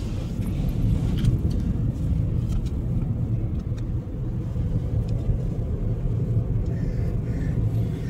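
A car cruises along a smooth rocky coastal road near Kashid beach, Alibag, its engine and tyre rumble a steady, close, low drone with faint wind and road noise throughout.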